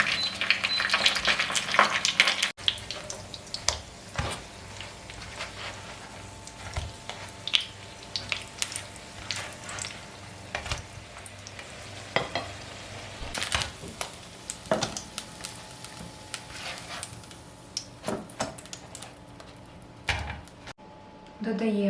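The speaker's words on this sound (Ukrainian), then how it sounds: "смажимо, нагріваємо олію." Oil heats and fries in a pan on medium heat while making filled crepes, a faint sizzle with scattered crackles and pops, along with occasional kitchen clatter and a handling thump.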